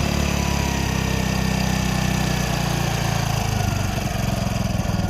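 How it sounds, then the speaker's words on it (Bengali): A motorcycle engine idles steadily as its RPM screw is adjusted, giving a loud, continuous close-up drone with a slight shift in the low throb midway. No voices are heard. "এবারটা কি করতে হবে, আপনার যে আরপিএম স্ক্রু আছে এই স্ক্রু কমাই দিতে হবে।"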